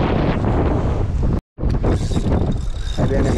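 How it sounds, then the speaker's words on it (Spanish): Strong coastal wind at the shoreline while fishing for bluefish in Connecticut, roaring and buffeting loudly against the microphone, broken by a brief silent dropout partway through. "Bastante ventoso, como pueden ver."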